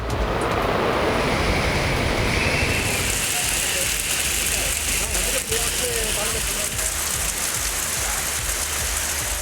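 Heavy rain pours steadily in Pandalur in the Nilgiris, a dense, continuous hiss of water on flooded roads, loud and close throughout without a break.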